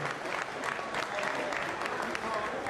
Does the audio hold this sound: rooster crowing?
no